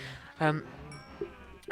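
A single short sheep bleat in a farming video game, fairly close and clear, followed by faint clicks and light background noise.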